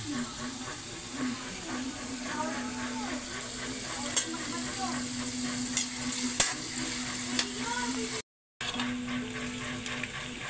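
Ginger, onion and garlic sauté in a hot pan with a continuous steady sizzle, stirred now and then with scraping spatula strokes, alongside a low background hum and a brief cut to silence near the end.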